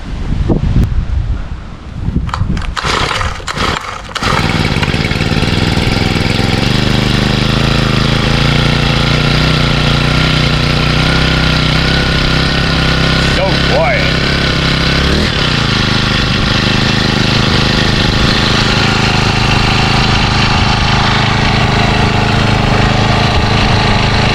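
A 4-stroke gas string trimmer runs after a cold start, its engine sputtering through the first few seconds before settling into a steady, loud, close idle hum that holds throughout with no talking.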